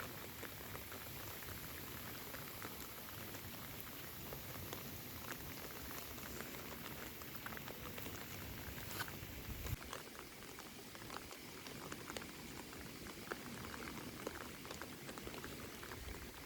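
Steady rain falling continuously, a dense patter of drops on surfaces with no voices, even and unbroken throughout.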